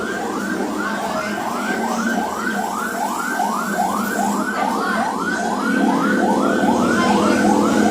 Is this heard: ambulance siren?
yes